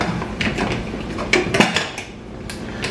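Metal lid set onto a pot of biryani in a home kitchen, with several close, sharp clanks and rattles of pot and cover over a few seconds.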